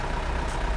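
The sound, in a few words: Mercedes 508 van engine idling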